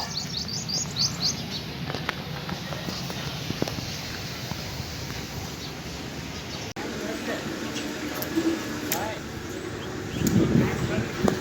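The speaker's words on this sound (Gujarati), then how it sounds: "આ બે કબૂતરની પેટી।" Pigeons in a wooden pigeon box, with brief chirps and soft calls and some footsteps and shuffling nearby, while people talk over them.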